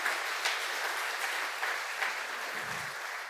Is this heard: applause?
yes